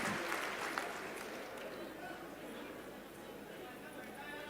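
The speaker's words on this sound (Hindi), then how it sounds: "आइए जोरदार तालियों से अभिनंदन करें" Applause from a large crowd of farmers at a crop-insurance payout gathering in Betul, welcoming the agriculture minister: a faint, distant wash of steady clapping with some crowd chatter underneath.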